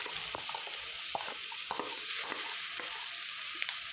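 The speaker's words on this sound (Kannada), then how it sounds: "ಹಾಕಿ ಹಸಿ ವಾಸನೆ ಹೋಗುವವರೆಗೆ ಫ್ರೈ ಮಾಡುವ." Beetroot paste fries with carrots in a pan, giving a continuous close sizzle with scattered soft clicks and pops as the mixture is stirred, steady in level with no voices.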